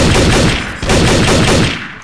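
Loud, rapid automatic gunfire rattles in a dense, continuous burst in the video game Trouble in Terrorist Town, with a brief dip before the shots resume and fade slightly at the end.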